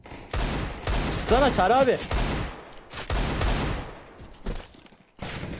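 Rapid gunfire bursts from Counter-Strike: Global Offensive ring out under excited Turkish chatter among teammates, with loud overlapping shots and voices throughout.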